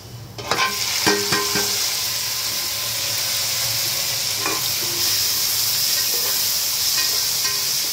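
Tomatoes sizzle and fry in a pan over browned onions, a steady hiss with a few sharp clinks and stirring knocks near the start.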